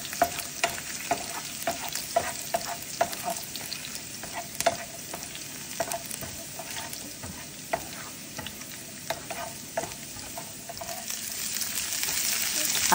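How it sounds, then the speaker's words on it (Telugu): Garlic frying in a pan for cauliflower fried rice gives a dense, continuous sizzle close by, broken by frequent sharp spatula scrapes and taps. "గార్లిక్ ఫ్రై అయినాక రెడ్గా ఫ్రై కావాలండి."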